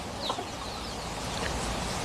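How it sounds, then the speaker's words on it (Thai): Chickens clucking at feeding time on a farm, soft scattered clucks over a constant noisy background, with no speech. "มาให้อาหารไก่นะครับ"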